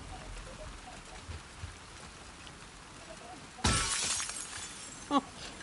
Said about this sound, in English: Goodness, you're breaking all the windows.